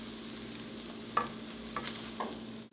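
Eggs stirred with white vinegar and soy sauce in a hot pan for egg fried rice: a low steady sizzle broken by three sharp utensil scrapes against the pan, close and clear, with no voices.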